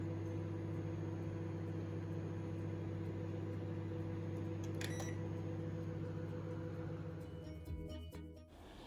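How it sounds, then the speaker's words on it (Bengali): A microwave oven defrosting frozen chicken on a plate gives a steady, close electrical hum that runs unbroken for most of the time, then tails off near the end with a few light clicks and knocks. "প্যাকেট থেকে বের করে একটা প্লেটের মধ্যে দিয়ে আমি এটাকে মাইক্রোওয়েভে দিয়ে ডিফ্রোস্ট করে নিব।"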